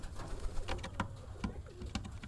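Pigeons coo quietly next to two newly hatched chicks in a loft, a few soft, evenly spaced coo pulses repeating about every half second over a low background hum, with no talking.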